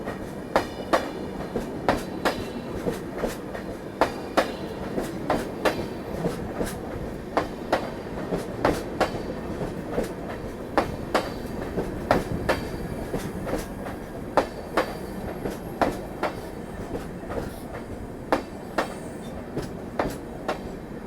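Bengaluru Superfast train running on rails, with steady, evenly spaced wheel clacks over a continuous low rumble from inside the moving coach, no voices.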